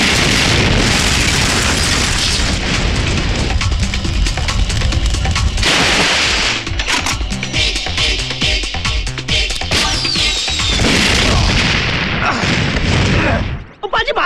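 Heavy booming blasts fired from a tank in a Bollywood comedy climax scene, loud explosions and crackling bursts repeating over several seconds, with chaotic din in between before fading out.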